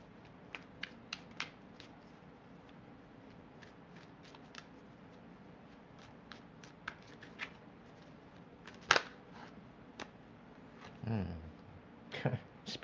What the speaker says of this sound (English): I'm just giving my cards a shuffle before we get started.